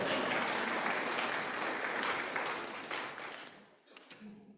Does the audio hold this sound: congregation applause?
yes